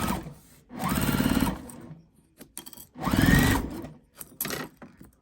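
A sewing machine stitches fabric for a tote bag in two bursts of rapid stitching, close and fairly loud, with short pauses and small mechanical clicks between.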